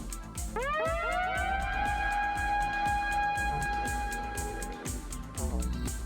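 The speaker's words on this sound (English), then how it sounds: "Siren." An electronic siren effect from a Pioneer DDJ-400 DJ controller wails with rising and sustained tones over a thumping beat, cutting off near the end before the beat continues.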